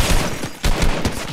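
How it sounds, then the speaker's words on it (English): Gunfire in Fortnite mobile, a video game, with rapid loud bursts of shots crowding together in a short, dense fusillade. "Are they shooting at me?"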